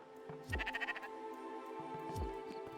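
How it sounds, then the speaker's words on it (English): In Spiritfarer, a sheep gives two quavering bleats about two seconds apart. Both are soft and distant over a quiet, sustained musical backdrop. "Wonder if we could steal those sheep."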